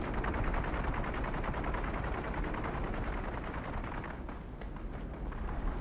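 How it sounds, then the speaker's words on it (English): Gunfire in the video game Dune: Awakening, a sustained dense barrage of rapid shots and thuds, loud and continuous throughout. "Did I just hear a whole bunch of gunfire?"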